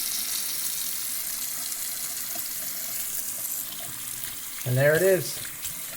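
Tap water runs steadily into a bathroom sink as a broadband wash through the whole stretch, with a voice speaking briefly near the end over the flow.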